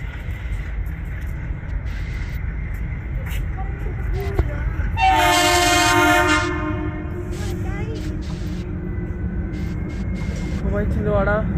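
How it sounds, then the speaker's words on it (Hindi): The Pathankot–Chhindwara Express with LHB coaches rolls into platform 1 with a steady rumble of wheels, and a loud horn blast sounds midway, while someone talks over the train noise nearby. "हमारी पठानकोट छिंदवाड़ा एक्सप्रेस अराइवल लेती हुई प्लेटफॉर्म नंबर 1 पे"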